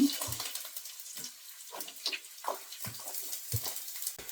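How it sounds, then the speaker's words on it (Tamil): Ginger and garlic sautéing in hot oil with fenugreek and mustard seeds for a fish curry, fairly faint, uneven sizzling with intermittent stirring scrapes and spatters. "இஞ்சியும் உள்ளியும் நல்லா வதங்கட்டும்"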